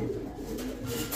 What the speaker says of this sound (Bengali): মাদি কবুতর ভাই